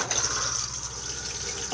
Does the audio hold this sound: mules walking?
no